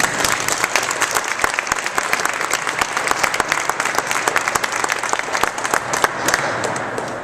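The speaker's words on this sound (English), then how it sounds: "Let's give him a round of applause." A crowd at a state advocacy day event breaks into a long round of applause, with crisp individual claps standing out from the dense, even wash of hands.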